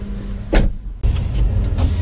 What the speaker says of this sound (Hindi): खोलिए खिड़की, खोलिए।